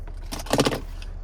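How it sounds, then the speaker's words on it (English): A Chevrolet Camaro key fob with remote start, from a 2023 Camaro 3LT coupe, gives a brief close jangle of keys that peaks in a short cluster of metallic clinks, then fades. "here's the key fob with remote start"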